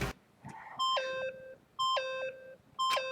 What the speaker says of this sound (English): Stop that beeping and say something.